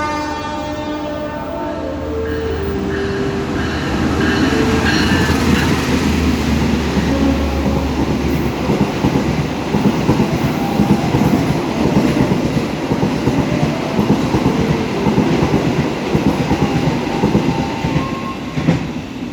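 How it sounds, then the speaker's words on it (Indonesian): The Argo Bromo Anggrek express to Surabaya runs straight through a station on track 3 without stopping, opening with a horn blast and then a loud, sustained roar of rushing cars and rhythmic wheel clatter close by. "Jalur 3 melintas langsung kereta api Argo Bromo Anggrek tujuan Surabaya."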